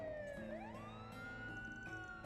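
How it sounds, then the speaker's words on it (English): A police siren wails in the Trails through Daybreak 2 video game, a clear rising and falling tone sweeping up and holding, heard alone and moderately loud. "A police siren?"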